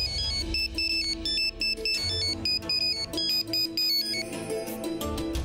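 A phone's melodic electronic ringtone plays a repeating pattern of bright beeping notes, loud and close, with short gaps between phrases.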